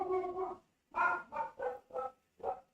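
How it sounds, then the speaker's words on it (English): Several dogs bark at a house along a road, a longer bark followed by five short, evenly spaced barks, fairly close and clear with no talking. "Sorry if you guys can hear our dogs."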